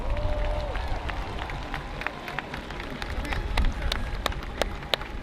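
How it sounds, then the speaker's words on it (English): Outdoor crowd applause at a civil rights march rally at the Lincoln Memorial, honoring organized labor: a wide, diffuse wash of clapping and crowd noise with scattered sharper claps and a faint background voice. "Organized labor, y'all, give them a round of applause."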